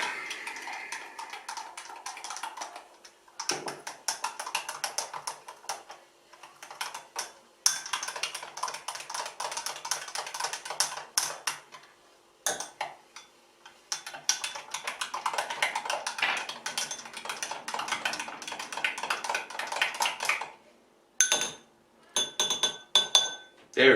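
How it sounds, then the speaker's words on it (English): A spoon clinks repeatedly against a glass while stirring sugar into a drink, producing bursts of rapid, close tinkling that stop briefly and then resume. "stir it a little bit more to try and get rid of the last bit of sugar"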